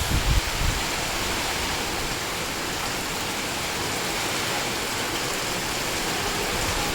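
Heavy typhoon rain pours in a dense, steady hiss, loud and unbroken throughout, with a brief low thump at the very start and no voices.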